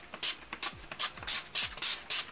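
Several quick spritzes of Urban Decay All Nighter makeup setting spray, short hissing bursts in a steady rhythm, close up and fairly soft.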